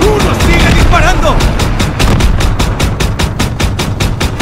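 Rapid, loud automatic gunfire in Call of Duty WW2, a Rhine river bridge battle: a steady stream of sharp shots, with a shouting voice over the first part.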